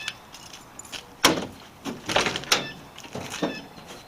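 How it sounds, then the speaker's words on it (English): Keys clink and a lock clicks as someone unlocks the door of a project car before mounting Cheetah tires, a few sharp metallic jangles and clunks close to the microphone with no talk. "one of the things we're going to do today is unlock this door so I can get in this thing"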